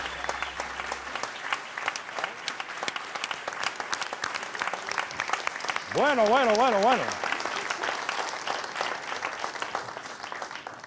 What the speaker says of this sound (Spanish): No dejen de aplaudir